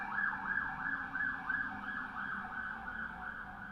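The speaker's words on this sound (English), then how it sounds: "There's a ambulance that's going by" An ambulance siren wails past outdoors, a rising and falling electronic tone, moderately distant and steady, heard through a building with faint road rumble beneath.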